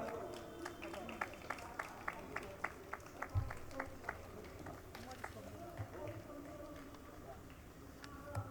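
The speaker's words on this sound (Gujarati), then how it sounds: "તાળીઓ." An audience at a Gujarati ghazal poetry gathering claps in faint, evenly spaced beats, about two per second.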